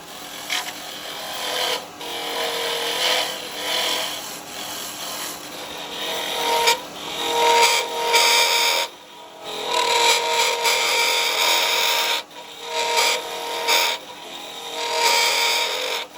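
Carbide chisels cut into a small wooden vase spinning on a lathe, producing a continuous close rasping and scraping hiss that surges and dips as the tool moves deep inside the piece, with brief pauses.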